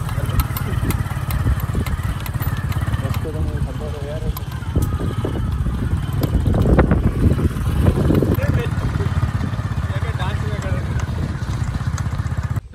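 A motorcycle engine idles and revs steadily close by, a constant low throb with people talking over it.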